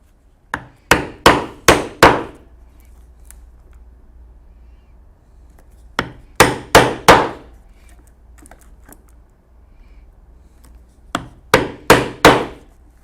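Holes punched through a leather strap for a saddle bag connector before stitching: three close groups of four or five sharp, ringing taps, each run quick and evenly spaced, with quiet pauses between groups.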